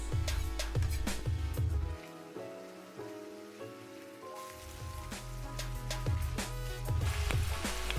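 A stir-fry filling with ketchup and soy sauce fries in a pan with a steady crackling sizzle, close and fairly soft, broken by repeated low knocks and clatter of stirring, with no talking.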